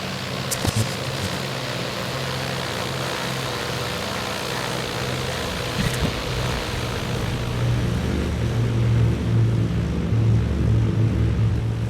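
A Beechcraft Duchess 76 twin-engine plane in X-Plane 11 lands without its left gear, engines droning steadily with a couple of brief thumps and scrapes early on, the hum swelling louder toward the end.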